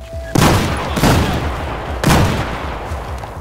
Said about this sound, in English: I got grenade launchers!